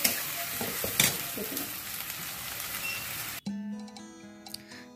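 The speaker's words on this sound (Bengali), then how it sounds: "ভালো করে কষে নেবো, এর মধ্যে একটু সস দেবো, দিয়ে মশলাটাকে ভালো করে কষবো।" Spice mix of salt, turmeric, cumin and ginger sautéing in a pan, a steady close sizzle with stirring scrapes for a few seconds before it cuts off abruptly into quieter tonal sounds.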